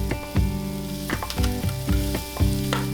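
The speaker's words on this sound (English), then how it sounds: "Now we're going to saute our onion." Onion sauteing in a frying pan, a steady close sizzle with repeated scraping stirs every half second or so, no talking.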